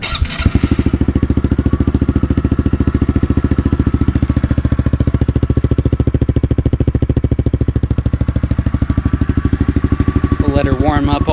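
A 2021 Honda CRF110 dirt bike fitted with a Yoshimura exhaust idles steadily up close, a fast even thumping pulse with a slight rev at the start and a voice briefly heard near the end.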